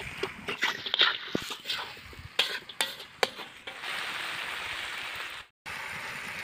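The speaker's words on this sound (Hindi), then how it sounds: "फिर पूरा मिक्स कर देते हैं पूरा झटपट।" Chicken intestines being stirred with turmeric powder in a pan, quick scraping stirs and soft sizzling in the first half, then a steady frying hiss before a brief cutoff, with no speech.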